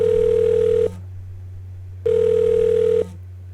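A synthetic phone ringtone from the Nintendo Switch game 1-2-Switch's Telephone minigame sounds in two long, even tones separated by a pause, loud and electronic over a constant low hum.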